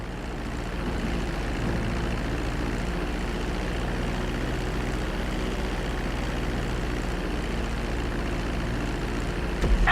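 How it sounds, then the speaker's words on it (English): Propeller airplane engine in Grand Theft Auto V flight school on PS4, heard in first-person mode while descending toward the runway to land: a steady, loud droning hum with low tonal harmonics, continuous for the whole stretch and rising slightly at the end. "Start reducing the plane's altitude gradually so you're just above the runway as you approach."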